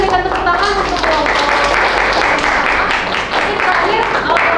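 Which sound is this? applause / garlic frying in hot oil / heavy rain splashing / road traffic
applause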